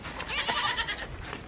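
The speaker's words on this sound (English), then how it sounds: "Just still learning how to be a little goat." Young goat bleating close by, one wavering cry with a quick pulsing quaver followed by a brief softer bleat, no talk over it.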